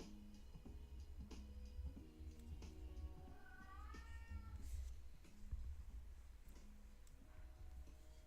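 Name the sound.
cat meowing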